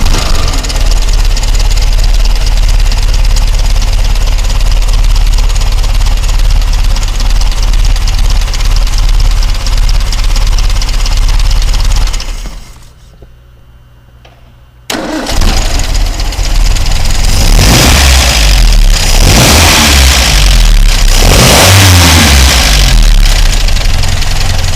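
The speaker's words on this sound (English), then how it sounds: "We'll start this engine up for you now so you can hear it run." A 1962 Triumph TR3A roadster engine idling loudly and steadily, cutting out briefly, then restarting and revving in several distinct rising bursts, with no talking.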